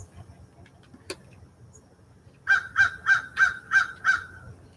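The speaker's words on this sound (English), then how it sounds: "Good morning, crows. They're loud." Six loud crow caws in a steady, evenly spaced run, preceded by a brief sharp click and quiet background.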